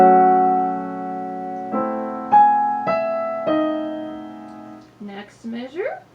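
Piano playing a measure of the Adagio Sostenuto from Rachmaninov's Piano Concerto No. 2, sustained chords struck in about four steps that ring clearly, then ending in a few brief higher notes.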